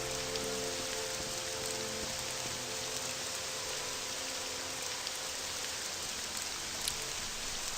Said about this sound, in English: Yeah, that's some heavy rain.